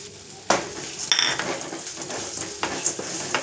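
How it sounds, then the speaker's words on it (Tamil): Nightshade (manathakkali) seeds drop into hot oil and fry with a soft sizzle, punctuated by a few sharp clinks of a utensil against the pan. "எண்ணெய் சூடாகிட்டு இப்போது நம்ம அந்த மணத்தக்காளி விதையை போட்டுக்கலாம்."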